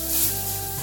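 Sauce for Welsh rarebit is mixed with a spatula in a pan, giving a short, soft sizzling swish heard up close with no talking.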